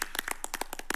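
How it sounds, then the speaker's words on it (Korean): A brief burst of applause at the close of a televised 2022 Korean presidential candidates' debate: a handful of people clap in quick, distinct claps, close by. "다 고생했다고 또 한번 박수 치시죠"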